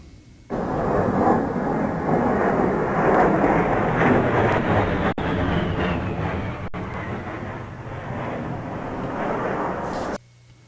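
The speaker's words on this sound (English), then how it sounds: "It is, in fact, an A-10 Warthog. This is what they do when they're doing their maneuvers." An A-10 Warthog jet aircraft maneuvering overhead near the Michigan-Indiana border, a loud continuous roaring jet noise that swells in abruptly and holds steady for about ten seconds before cutting off.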